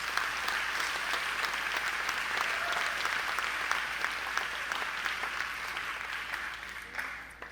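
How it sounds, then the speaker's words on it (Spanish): A church congregation claps loudly and steadily for several seconds during a sermon, a dense, even wash of applause that fades toward the end. "Dale un fuerte aplauso al Señor."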